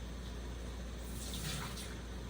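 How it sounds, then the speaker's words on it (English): Cold tap water running steadily over freshly made butter to rinse off the buttermilk, a continuous close splashing stream into a sink with no talking. "let me run it under some cold water right quick"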